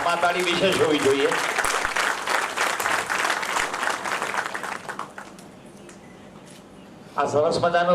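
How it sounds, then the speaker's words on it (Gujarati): Audience applause at an inaugural function, a dense, loud wash of clapping lasting several seconds before fading to a quiet lull, then voices resume near the end. "આમાં તાળી વિશેષ હોવી જોઈએ."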